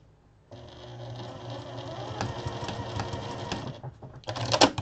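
A sewing machine stitches a chicken pot holder, starting abruptly and running as a close, steady mechanical whir with rapid needle clatter, then pausing briefly before a sharper final burst.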